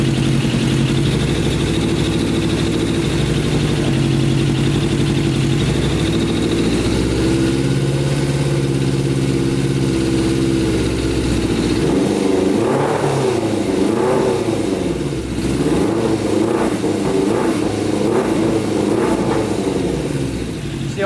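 A custom Yamaha Banshee engine with a Stage 4 jet kit runs loud and close, its steady two-stroke idle turning rough and wavering into a bogging stumble as a hand covers the carburetor.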